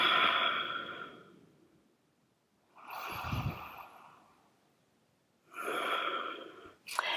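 Slow, audible Ujjayi breaths during a yoga leg stretch: three long, airy breath cycles with a soft oceanic hiss, each swelling and fading, close and fairly quiet with pauses between.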